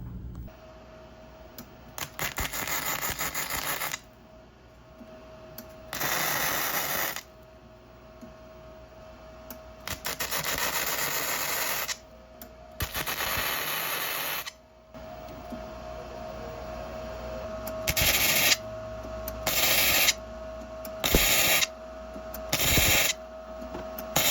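A welder tacks a tow hook onto a C6 Corvette in a series of short buzzing, crackling bursts separated by quiet pauses, with the later tacks quicker and sharper.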